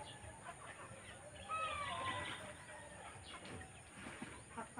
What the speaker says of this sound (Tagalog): Yan po tita yung mga manok natin.